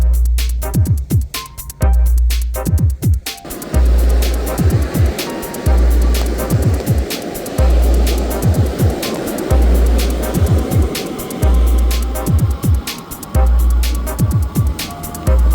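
Wind buffeting and surf rolling in while riding a Kingbull Literider 2.0 folding e-bike along the beach, with loud, steady gusty rushing punctuated by repeated low thumps.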